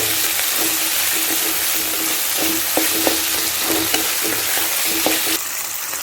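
Onions and tomatoes fry in a pan for dal rice while being stirred: a loud, dense sizzle with regular spatula scrapes and knocks, close by, easing off near the end, with no voices.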